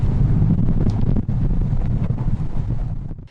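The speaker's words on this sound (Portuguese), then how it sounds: "Na orla de Santos, por volta das 10h30 da manhã, o cenário era esse, de muito vento." Strong wind blows across the Santos seafront in Brazil on a gusty morning, roaring continuously and buffeting the microphone with heavy low rumble and brief dips between gusts.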